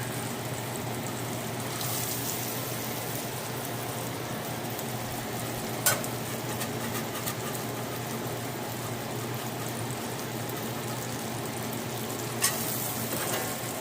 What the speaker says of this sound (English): A lot of bacon grease going there.